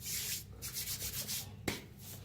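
A knife working through a raw jackfruit, rhythmic rasping strokes close by with one sharper cut near the end, fairly quiet and without talk.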